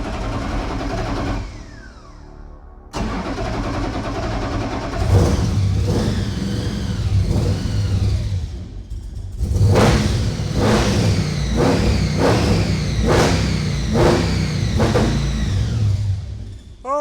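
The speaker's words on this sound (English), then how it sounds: "we fire this motor up for the first time" A 700-horsepower blown Pro Street Dodge engine cranks, catches and fires up, then barks through a series of loud, sharp revs rising and falling in quick succession over a heavy rumbling idle, close and alone without talk.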